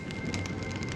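Steady rain falls in Honkai Star Rail, a dense continuous patter of drops on surfaces, with no voices.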